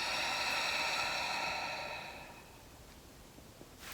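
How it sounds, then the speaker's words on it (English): A long, breathy exhalation during a guided breathing exercise: a soft, steady rush of air that fades out over about two seconds, leaving near silence and a small click at the end. "draw a breath out"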